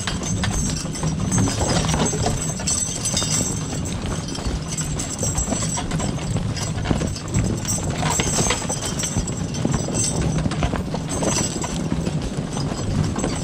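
Draft horses hitched for logging walk with steady, fairly loud hoof clip-clops over a continuous outdoor background, the hooves plodding close by throughout with no talk.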